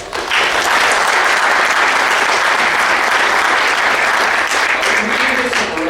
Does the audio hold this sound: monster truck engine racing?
no